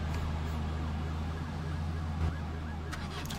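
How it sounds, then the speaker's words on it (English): Police sirens in the video game Arma 3, a distant wailing tone sitting under a steady low engine-like hum, faint and continuous without voices. "I'm trying to figure out what these sirens are."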